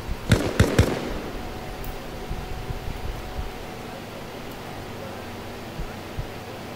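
Gunfire in the Arma Reforger video game on an Afghanistan map at night: a quick cluster of three or four sharp distant shots early on, then a few fainter pops over steady wind-like background hiss, with no talking.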